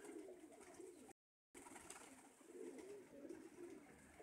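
Domestic pigeons coo in a loft, a steady low murmuring that rolls on continuously, close and moderately loud, broken by a short gap of silence partway through.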